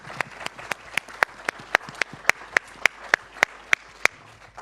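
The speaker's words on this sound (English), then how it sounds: "A big round of applause for our panel." Sparse, evenly spaced claps ring out from a small audience after a panel discussion at a data and privacy summit, about a dozen sharp hand claps in a steady rhythm with no talk over them.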